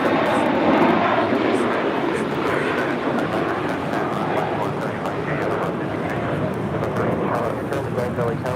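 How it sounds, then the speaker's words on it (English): JetBlue Airbus A321 taking off at LAX, a sustained broad jet engine roar heard from a distance, steady and loud, with a person talking over it. "That's JetBlue Airways 524 taking off to JFK on an A321."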